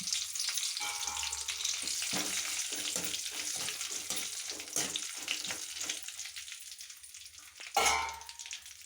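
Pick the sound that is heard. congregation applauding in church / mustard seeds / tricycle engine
mustard seeds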